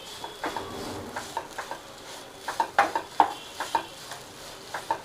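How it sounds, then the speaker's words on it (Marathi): A spoon scrapes and taps through pea kachori filling sautéing in a pan, a string of short, fairly close stirring knocks over a faint background sizzle. "आणि आणखीन एक 2 ते 3 मिनिट मी ह्याला असंच चांगलं परतत राहते."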